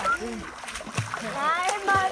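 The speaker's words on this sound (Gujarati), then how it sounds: "એના ઉપર પાણી ના ઉડાડીશ" A young boy splashes water while bathing or playing in a pool, with short bursts of splashing among excited voices and chatter.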